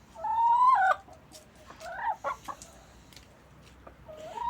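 A hen lets out a drawn-out nasal cluck, followed by a few shorter clucks and soft chirps, close by and otherwise quiet.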